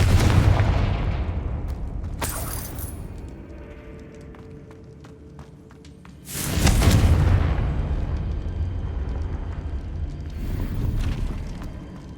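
A Confringo blasting spell in Hogwarts Legacy goes off in a heavy booming explosion with a rumbling tail, followed by a second loud blast midway through, close and dominant over the game's background noise.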